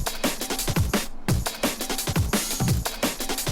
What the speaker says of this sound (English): One is a drum loop that's sounding like this